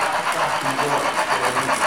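An S-gauge American Flyer diesel model train runs into a two-track automated yard, giving a loud, continuous whirring rumble with a faint rhythmic pulse throughout.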